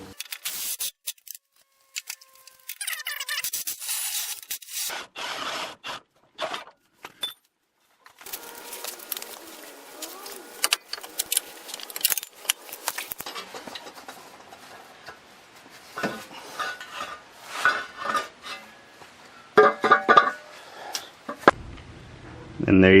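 A 27mm wrench works the rear radius arm bolt on a Ram 2500, giving scattered metallic clicks and clanks in bursts between quiet gaps, close and fairly crisp.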